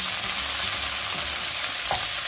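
Tomato puree fries in a pan for a ragu sauce, giving a steady close sizzle with brief stirring scrapes near the end and no talk.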